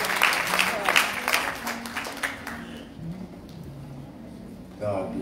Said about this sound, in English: Give God a hand clap of praise for them.